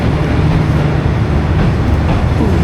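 Steady low rumble fills the soft-seat section of a moving UK passenger train, with continuous wheel and carriage noise and no voices.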